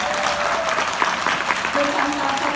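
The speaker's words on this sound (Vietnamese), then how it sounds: "Một tràng vỗ tay thật lớn đi ạ." Audience applause at a seminar hall, a steady dense clapping from a large crowd sustained throughout, moderately loud with no speech over it.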